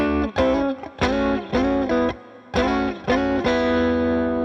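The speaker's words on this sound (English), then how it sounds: "So then what we can do is slide between these two chords and create sounds like this." An electric guitar with effects slides between two chord shapes, strummed in short rhythmic bursts with slight distortion, clear and close.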